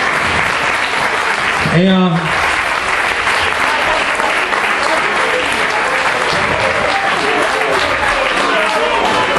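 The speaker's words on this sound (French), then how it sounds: "ces applaudissements sont pour toi, à ton travail." A crowd gives loud, sustained applause at a tribute performance, many hands clapping in a dense, continuous roar close by, with a brief spoken word from a man near the start.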